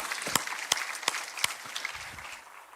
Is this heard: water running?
no